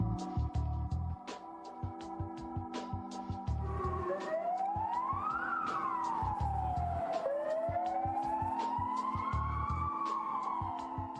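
Ambulance siren wailing up and down in slow sweeps, near and loud, over a steady rhythmic thumping backing in a Slovak emergency-rescue documentary.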